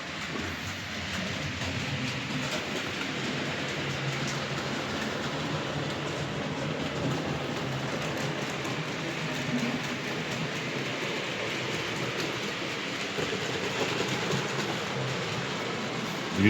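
A model train locomotive runs around its track with a steady, even whirring rumble that holds at constant loudness throughout, close by and without talk.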